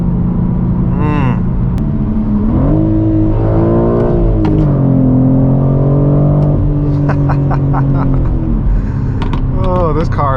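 A BMW M4 G82 with manual gearbox and stock exhaust revs its engine, the pitch climbing and settling in steady rises over about ten seconds, loud and close, with voices talking over it at a BMW car meet.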